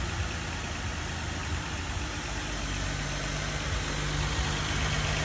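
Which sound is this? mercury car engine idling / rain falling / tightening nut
mercury car engine idling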